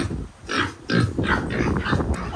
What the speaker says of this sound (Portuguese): Aí tem os porcos, né? Olha os porcos, olha o chiqueiro.